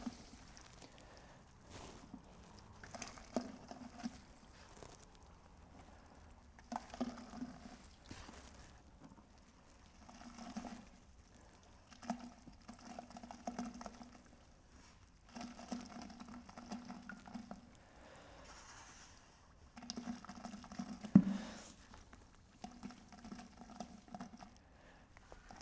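Plaster slowly sifted into water while mixing for a mold: soft, faint patters and light splashy trickles come in short bursts with quiet gaps between them, close up and without talk.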